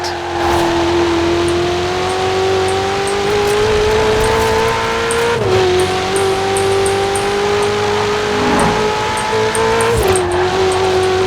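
A car in Forza Horizon 4 holds a loud, close engine drone that climbs steadily. Two sharp, aggressive gear shifts break the rise, each followed by a renewed climb, with faint tire noise underneath.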